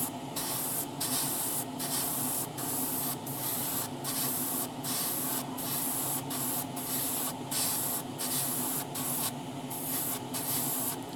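Airbrush spraying a colour coat onto Tamiya 1:12 Yamaha YZF-R1M swingarm model parts, a steady close hiss that pulses in short bursts as the trigger is released and pressed again, with no talking.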